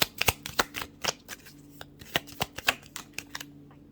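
Oracle cards being shuffled and drawn for a reading, a run of crisp papery riffles and flicks in quick irregular bursts, close and fairly quiet with a faint low hum beneath and no talking.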